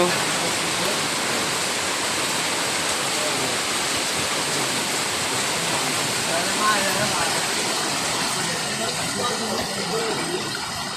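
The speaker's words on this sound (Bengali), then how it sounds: "এই হলো গ্রামে বৃষ্টির অবস্থা" Heavy rain pours steadily over a village, a dense, even hiss filling the whole stretch with no break, loud and close, like a downpour on roofs and ground.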